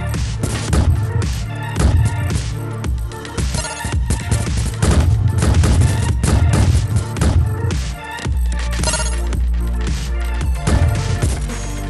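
Dense, continuous rapid gunfire and explosions from the Glitchskier video game, loud and layered over electronic game music with a heavy bass, including incoming homing missiles.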